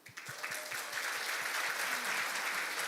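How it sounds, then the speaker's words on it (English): An audience at a youth international forum gives a round of applause for student presenters, a dense, steady wash of clapping that swells quickly and holds evenly throughout. "why don't we give another big round of applause for all the students who have delivered their presentation in the morning"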